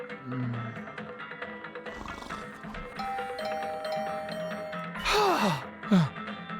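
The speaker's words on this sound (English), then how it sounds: "Brought back to the land of the living by the unrelenting ringing of my doorbell." A doorbell rings in a horror video game, chiming tones sounding over a droning, eerie game soundscape, with a loud rising-falling burst near the end.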